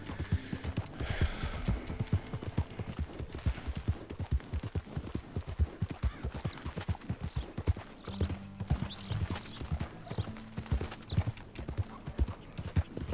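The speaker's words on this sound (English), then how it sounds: "It's just horse, gallop, gallop, gallop, gallop." A horse in the video game Red Dead Redemption 2 gallops, its hoofbeats a fast, steady, close clip-clop rhythm that runs the whole time, with brief bits of game sound and talk faintly underneath.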